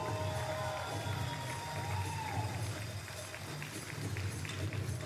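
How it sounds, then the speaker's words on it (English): A crowd in an indoor tennis arena cheers and shouts for a player introduction, with a dense, continuous roar, whoops and a whistle-like tone, and amplified music beneath. "Make some noise for Kevin King."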